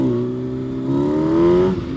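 A sport bike engine revs hard and close during a street wheelie, its tone holding steady and then rising in pitch before easing off abruptly, with no voices.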